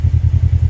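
Kawasaki KRX 1000 side-by-side engine with its catalytic converter removed, idling with a steady low, pulsing throb that lasts throughout the clip and is fairly loud with no talk over it.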